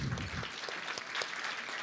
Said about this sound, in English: Please, can we have a round of applause of them?